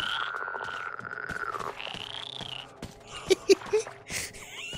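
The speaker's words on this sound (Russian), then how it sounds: "Жабы жабчат" Frogs croak in the post-apocalyptic video game Metro Exodus, a few short, faint croaks rising over a steady ambient game soundscape with other tonal noises.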